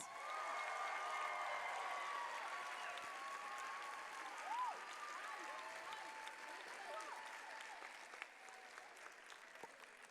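Families at an elementary school fifth grade promotion ceremony applaud steadily, a broad bed of clapping with faint cheers and scattered voices threaded through, fairly distant and soft.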